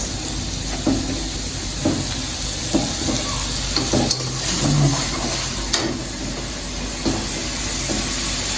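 Potatoes and seasoning frying in a hot pan while being stirred, a steady close sizzle broken by regular scraping strokes of a spatula roughly every second.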